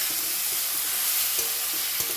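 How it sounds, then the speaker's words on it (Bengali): Mashed dal and potato, seasoned with cumin powder, poured into a hot pan: dense, loud, continuous sizzling and bubbling up close, with faint stirring knocks under the hiss. "এবার মেখে রাখা ডাল আলুটাকে আমি এর ভিতরে ঢেলে দেবো।"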